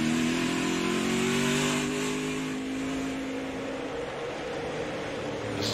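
A NASCAR race car engine drones steadily at a distance on the Daytona road course, its pitch slowly falling as the throttle eases off through a slow corner, then rising slightly toward the end.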